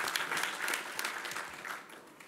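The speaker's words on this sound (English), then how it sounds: "I think everyone deserves a round of applause for all your hard work" Employee meeting audience applauding, a fairly faint, steady round of clapping that gradually fades out by the end.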